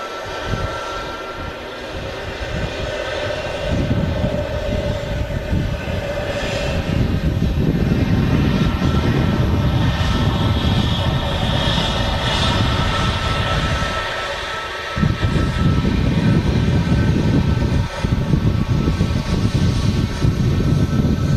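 Pratt & Whitney 1100G aircraft engines idling at Manchester Airport, a loud steady whine and rumble with tonal hums, swelling in strength partway through and holding constant without talk.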